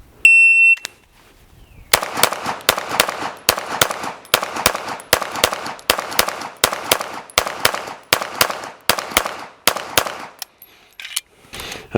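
Rapid strings of pistol shots ring out against steel targets during practical shooting practice, about a dozen sharp cracks per string with short even gaps, loud and close, following a brief electronic timer beep at the start.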